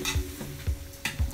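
Pasta cooking water is being stirred into a frying pan, with a gentle sizzle and a few rhythmic scraping strokes about half a second apart, close and fairly quiet, with no voices.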